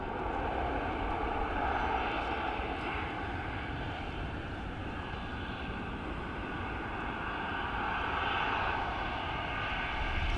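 A Ryanair jet airliner applying reverse thrust after landing at Dublin Airport, a continuous broad roaring rush heard from a distance, holding steady for about ten seconds with a slight swell near the end.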